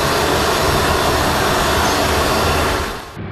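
A Boeing C-17 Globemaster II military transport's jet engines roar loud and close, a dense, steady broadband rush that eases slightly at the end, with no voices.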